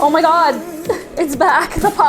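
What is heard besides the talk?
No everyday noises stand out.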